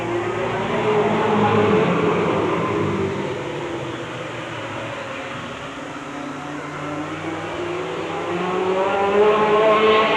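Race car engines roar past continuously on an oval track, swelling and fading as the cars circle, a steady loud drone from a distance with no talking.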